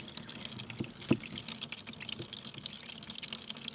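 Hot and cold water running from a tap fed by a sun-heated manifold at a shipping-container home, heard as a low, continuous trickle and drip with one brief louder splash.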